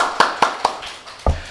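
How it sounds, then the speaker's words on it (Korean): A few separate hand claps ring out in a church during a Sunday worship service, four sharp, spaced claps with a short gap before the last, loud and close rather than the sound of a full congregation. "박수!"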